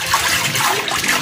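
A barong soaks in a basin of water with liquid detergent and is stirred by hand, giving a steady, close sloshing and swishing of water with no pauses.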